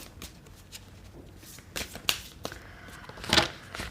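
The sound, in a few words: tarot cards being shuffled and drawn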